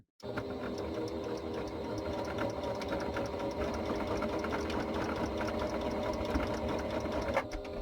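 A sewing machine runs steadily for several seconds while stitching a small handmade craft piece, a close, continuous motor hum with rapid needle clatter and no talking.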